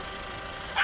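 A feral stray dog, one of the abandoned dogs gone wild in the area, lets out a single short bark at the very end after a stretch of quiet background hiss.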